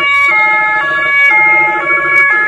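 An empty ambulance sounds its siren loudly and up close, a steady two-tone wail that alternates evenly throughout.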